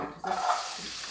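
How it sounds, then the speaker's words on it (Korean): Sliced garlic is stir-fried in cooking oil, a short burst of sizzling with a light stirring scrape, close and moderately loud. "이렇게 볶아주세요."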